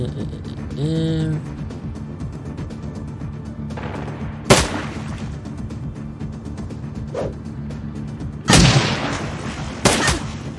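Grenade blasts and gunfire in the video game Shadowrun: Dragonfall, with a few sharp explosive bursts and shots spread across the clip over a constant background rumble.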